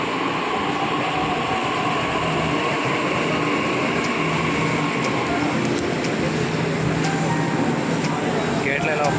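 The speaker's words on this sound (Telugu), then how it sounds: "అదే మెట్రో ట్రైన్." A Delhi metro train rumbles loudly and continuously, with a steady roar of rolling wheels and faint high clicks, and voices mixed into the din throughout.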